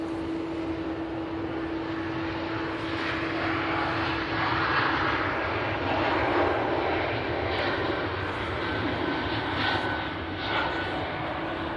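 Airbus A380 jet taking off at Manchester Airport, a steady, moderately distant engine roar passing by with a constant hum throughout and no talk.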